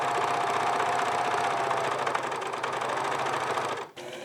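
A sewing machine runs steadily while top stitching a raincoat pocket flap, a close, continuous rapid mechanical whir and knock that stops briefly near the end, with no talking.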